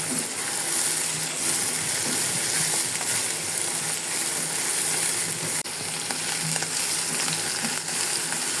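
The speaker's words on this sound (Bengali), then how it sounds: "কয়েকটা শুকনো মরিচ দিয়ে দেবো।" Dried chillies frying in hot oil in a home kitchen while a shrimp and taro-stem dish is cooked, giving a steady, close sizzle with light crackle that runs unbroken throughout, with no talking.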